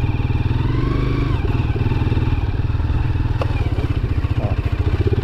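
A heavily loaded motorcycle engine chugs steadily with a pulsing low rumble, close and loud, with light rattles and clatter over it.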